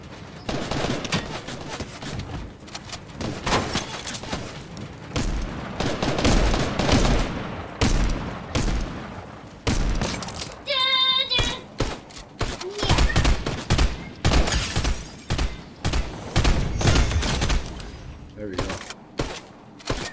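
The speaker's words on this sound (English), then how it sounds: "Who else is shooting at me?" Rapid bursts of gunfire in a Fortnite match, crackling volleys and fusillades mixed with impacts, loud and close, with a player talking excitedly over much of it.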